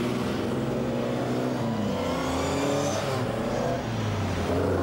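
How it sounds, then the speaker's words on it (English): Touring cars race on a circuit during a post-historic touring car race with a large crowd, including a Triumph Dolomite and a Jaguar XJ12, their engines roaring and revving continuously and loudly as cars pass close by, without speech. "lining up to watch this, the post-historic touring car race"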